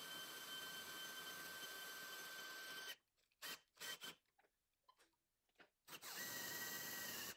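A power drill drives a trailer tongue jack through a socket adapter, whirring loudly and steadily for a few seconds, stopping briefly amid faint clicks, then spinning up loudly again at the end.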